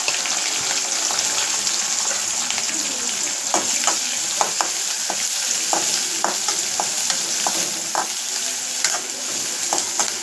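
Green chilli, curry leaves and onion frying in hot oil for a tempering, a steady close sizzle broken by sharp crackles and pops from the pan, with no talking.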